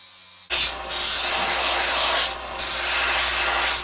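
Steel strips cut from an old handsaw being sanded: loud, steady broadband rasping in two long passes with a brief pause between, close and continuous with no talk.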